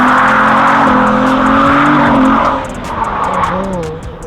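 A 700 bhp Audi Quattro S1 drift car screams past with a loud, sustained engine wail and shrieking tire squeal, the revs rising and falling as it slides, close and dominant before easing slightly.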